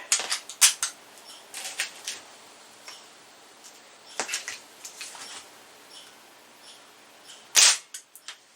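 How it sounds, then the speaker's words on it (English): A Diana Chaser .177 air pistol fired over a chronograph, a sharp crack near the end among scattered small clicks and ticks of handling and loading, fairly close and quiet overall. "that was the first official shot"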